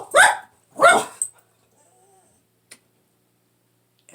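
Dogs indoors let out two loud, close barks in quick succession, then everything goes quiet apart from a few faint clicks.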